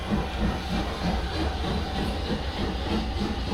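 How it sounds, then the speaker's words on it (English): A train passes the Horsted Keynes signal box, heard from inside as a steady, fairly loud rumble with a hissing wash and faint rhythmic wheel clatter, continuous throughout with no talk. "See a train through the single box window"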